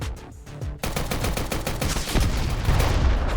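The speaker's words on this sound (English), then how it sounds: "The explosions are pretty satisfying." Mech Havoc mech combat game on PC: a sudden explosive burst followed by rapid, rattling automatic gunfire and booming impacts that grow louder and denser toward the end.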